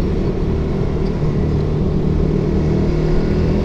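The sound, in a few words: motorcycle engine on a public road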